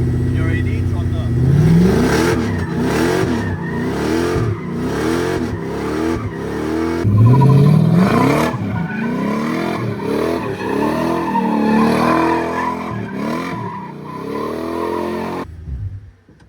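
A car drifts around a cone with its tires skidding and the engine revving hard in repeated rising surges. The sound is loud and continuous, then cuts off abruptly near the end.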